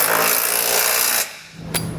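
A power tool fitted with a 15/16 socket runs steadily while snugging a big bolt on a Curt trailer hitch receiver for a 2021 Ford Explorer, then stops, followed by a short sharp burst, loud and close.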